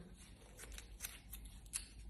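Faint, close snips of small scissors cutting thick bleached hair, several quick cuts spaced irregularly against a quiet low hum.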